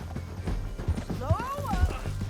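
Horse hooves clopping at a rhythmic gallop in the video game Red Dead Redemption 2, with a horse's whinny rising midway, all under steady talk and game sounds.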